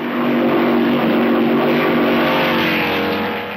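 A 1953 Maserati 250F Formula 2 race car roars loudly past at full throttle during a race, a dense, harsh engine note that swells and fades over a few seconds.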